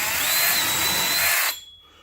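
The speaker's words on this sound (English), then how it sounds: "get you a 5/16 inch drill bit and go ahead and finish drilling" A power drill bores through a wood block with a 5/16 inch bit, running as a steady, loud whine for about a second and a half before cutting off abruptly to near silence.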